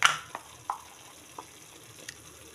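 Egg curry masala with water stirred in a pan, soft wet scraping and stirring strokes with a faint low sizzle, close and quiet, a few distinct stir clicks spaced apart.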